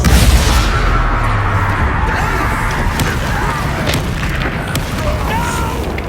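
Bombarda and Confringo spell blasts in Hogwarts Legacy, loud booming explosions and crashing impacts filling the whole stretch, with combat shouts mixed in.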